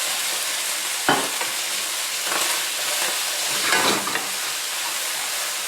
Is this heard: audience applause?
no